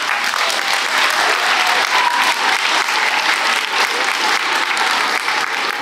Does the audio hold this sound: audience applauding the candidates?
yes